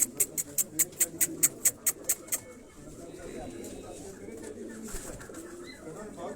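Pigeons bred as a cross between teddy and black-faced pigeons coo and flutter nearby: about a dozen quick, evenly spaced bursts at first, followed by softer low cooing murmurs and faint background voices.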